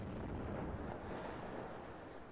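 Artillery fire in the WARNO strategy game rumbles as a dense, continuous low roar of distant blasts, fairly faint and steady throughout, with no talk over it.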